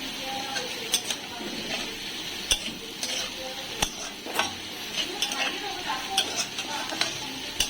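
Potatoes sprinkled with poppy seeds fry in a pan with a soft steady sizzle, punctuated by sharp metallic clinks and scrapes of a utensil against the pan at irregular intervals.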